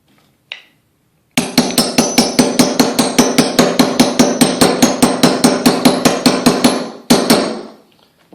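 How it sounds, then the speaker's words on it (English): A single tap, then a long run of about thirty sharp, evenly spaced hammer blows close by, driving a snap fastener into plastic armor, a brief pause, and a few final strikes. "So we're going to hammer this in from the bottom."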